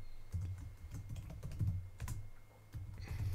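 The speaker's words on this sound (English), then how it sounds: "don't mind me typing things" Close, quiet typing on a computer keyboard, an irregular run of light key clicks with short pauses, heard alone with no voices.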